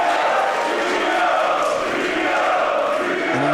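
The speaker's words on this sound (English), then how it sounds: "And listen to this crowd here." A large crowd roars steadily at a women's wrestling show, a dense, loud, continuous wall of cheering and shouting that fills the whole stretch without letting up.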